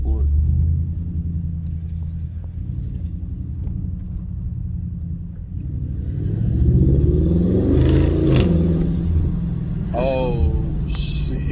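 An Audi S6 fitted with a CTS intake rumbles steadily at a deep, close idle, swelling into a louder revving surge midway with rising engine tones, while a person talks over it.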